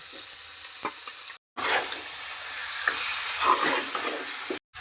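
Chicken curry with ginger being stirred in a pan, a steady sizzling hiss broken by scraping spoon strokes, with two brief silent gaps, close and fairly loud.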